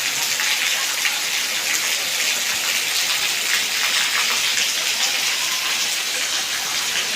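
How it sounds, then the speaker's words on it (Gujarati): Heavy monsoon rain drumming on a metal sheet roof, a dense, steady roar of hissing drops that stays loud and even throughout with no voices. "મિત્રો હવે વરસાદનું પ્રમાણ વધવામાં લાગ્યો છે"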